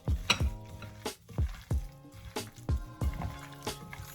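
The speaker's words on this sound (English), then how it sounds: "Massage this seasoning into this chicken thigh" Hands massage seasoning into raw chicken thigh, producing close, repeated wet squishes and soft slaps in an uneven rhythm, with a faint low hum underneath.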